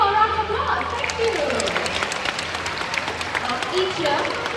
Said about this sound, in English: let's give Quincy and Amigo a round of applause